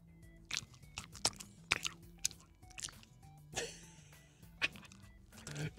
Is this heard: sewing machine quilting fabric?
no